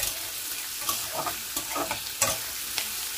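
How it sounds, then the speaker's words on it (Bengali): Potatoes and onions fry together in a pan while being stirred, a steady sizzle broken by repeated scraping stirs of the spoon against the pan, close and clear with no talk. "আলু আর পেঁয়াজ একসঙ্গে আবার সুন্দর করে ভেজে নেব"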